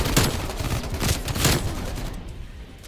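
Bursts of XM4 rifle fire in Call of Duty Cold War multiplayer crack out in quick volleys, loud and close, then cut off into a fading tail.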